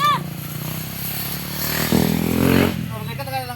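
Motorcycle engine revving close by, the drone swelling and easing over a few seconds, with people talking over it.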